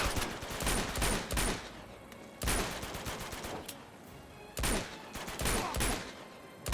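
Gunfire in the video game Uncharted 2, set on a jungle mission: loud bursts of rapid shots arrive in several separate volleys with short quieter gaps between them, and no clear talking.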